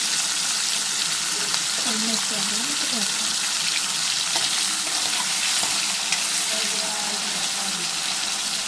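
Onion and tomato frying in a home kitchen pan, a steady broadband sizzle running throughout with faint clinks and water-like hiss, while a voice murmurs intermittently in the background.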